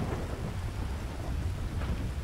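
Rain pours in the video game Grand Theft Auto 5 while low thunder rumbles beneath it, a steady wash of noise with a swell toward the end, no voices.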